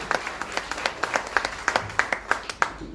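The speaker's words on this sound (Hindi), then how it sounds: "अब बजेगी तालियां एक बार" An audience at a business company event claps together in a steady, rhythmic burst, each clap sharp and close, sustained throughout a short stretch with no voices over it.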